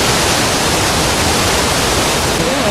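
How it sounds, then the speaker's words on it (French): A waterfall at a resurgence spring, fed by part of the source of the Garonne, roars as a loud, dense, unbroken rush of falling water close by, filling the whole stretch with no voices. "là on est en train de monter au-dessus de cette superbe cascade qui n'est autre qu'une résurgence"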